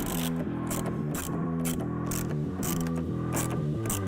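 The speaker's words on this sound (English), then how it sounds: "you're going to remove these two bolts that are securing the factory air scoop" A ratchet wrench loosens the two bolts holding the factory air scoop on a 2019-2020 Ram with the 6.7L Cummins engine, giving close, loud bursts of rapid clicking in a regular back-and-forth rhythm.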